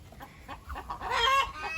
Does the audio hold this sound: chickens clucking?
yes